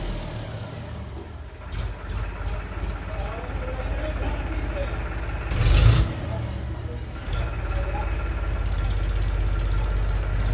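A tractor engine rumbles steadily at close range beneath ongoing talk, swelling briefly to a louder peak midway as it passes, then settling back to a constant low drone.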